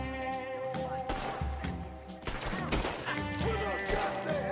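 Rapid gunfire in Red Dead Redemption 2 crackles as a dense volley through a busy mix of in-game music and sound, with sharp shots clustering around the middle of the stretch.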